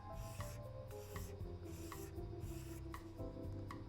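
A razor blade, bent slightly, scrapes along a guitar's finish to level spots before sanding. It makes a soft, raspy scrape repeated in an even rhythm, about two strokes a second, close and quiet.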